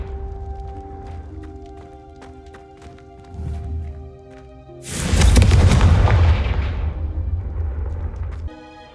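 Confringo fire spell blasts in the Hogwarts Legacy video game: a softer thump, then a loud whooshing fiery burst that roars for several seconds over low game ambience and faint footsteps.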